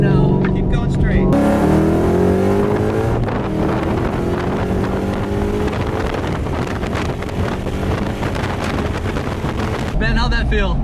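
A 722 hp Mustang GT accelerating hard, its engine roaring as the pitch sweeps upward through the gears, loud and close under heavy wind buffeting, with voices talking over it.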